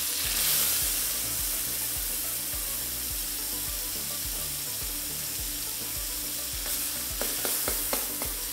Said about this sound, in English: when the oil is hot, add in the fermented beancurd